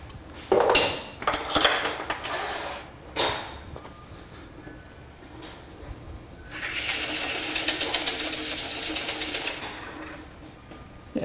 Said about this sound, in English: So I'm going to bore a 1-inch hole, and I'm going to go in just about 1/8 of an inch